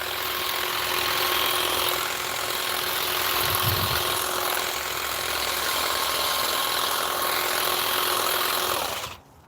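A Stihl HSA 26 battery garden shears buzzes steadily through thicker branches in a home garden, a continuous close whine with a brief thunk of strain midway, cutting off abruptly near the end.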